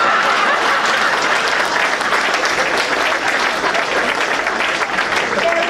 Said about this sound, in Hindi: इन्होंने जो कसम खाई उसके लिए आपकी तालियां बजनी चाहिए